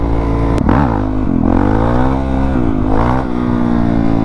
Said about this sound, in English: Let's see if we can do a quick wheelie here.